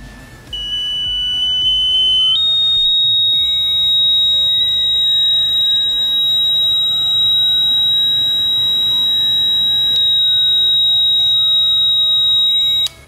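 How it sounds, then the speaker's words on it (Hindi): A homemade rain alarm buzzer, built as a school science project, gives a loud continuous electronic tone that steps up in pitch and holds steady for about twelve seconds, with no talking. "तो हमारा रेन अलार्म बनाना अभी कंप्लीट हो गया।"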